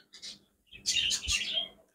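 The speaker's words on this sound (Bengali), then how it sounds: "এই যে পাখির ডাকগুলা দেখেন কত সুন্দর" Pet budgerigars bathing in a water bowl give a few short, bright chirps, one brief call followed by a louder, busier burst, close by and otherwise quiet.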